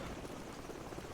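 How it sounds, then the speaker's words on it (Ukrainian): Helicopter rotor noise in the video game Call of Duty 4: Modern Warfare, a steady broadband rotor drone that stays loud and constant throughout, with no talking over it. "Завали гелікоптера, йди сюди"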